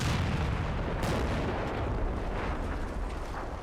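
Small arms and artillery fire in the Cold War wargame Combat Mission, a dense, continuous rumble of distant booms and crackling bursts that stays loud throughout with no talk.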